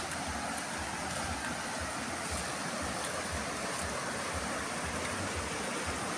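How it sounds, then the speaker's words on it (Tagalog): A clear river flows steadily nearby, its rushing water making a dense, constant broadband wash with a low churning rumble. No voices are heard. "Malinaw yan. Magandang ilog."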